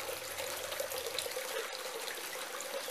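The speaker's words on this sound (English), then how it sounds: "Fishies love the waterfall." A small waterfall spills into a full fish pond, giving a steady, even rush of splashing water. It continues without a break at moderate level, with no voices.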